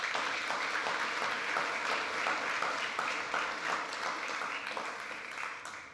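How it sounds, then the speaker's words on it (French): An audience claps for panel guests at a talk on life, Earth and transition, a steady wash of applause lasting several seconds before fading slightly at the end. "On peut les applaudir également."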